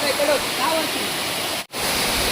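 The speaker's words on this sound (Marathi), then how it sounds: "तर बघू शकता एकदम खतरनाक म्हणजे खतरनाक धबधबा" A hidden waterfall deep in the Konkan hills pours with a steady, loud, broadband roar of rushing water that is briefly cut off for an instant near the end.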